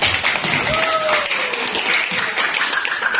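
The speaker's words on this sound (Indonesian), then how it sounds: "Berikan tepuk tangan nak." Students applauding in a classroom after quiz winners are announced, steady clapping under a brief vocal tone and faint voices, continuing evenly throughout.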